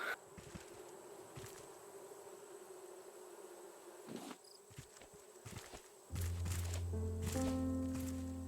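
Bees buzzing around a hive in the survival video game Raft, a steady droning hum throughout that is joined near the end by a louder, low tonal game drone.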